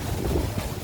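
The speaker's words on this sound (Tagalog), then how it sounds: "Ngayon, malakas ang hangin, malakas ang hangin." Strong wind at the foot of the Sierra Madre mountains along Marcos Highway rumbles and buffets the microphone, a low, continuous gusty roar with no voices.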